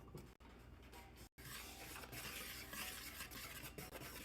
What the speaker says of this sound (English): So now we're just gonna whisk it all together.